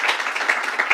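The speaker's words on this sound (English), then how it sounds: "let's give her a round of applause" An audience at a New York State government announcement applauds in a dense, even patter of clapping that holds steady for a moment.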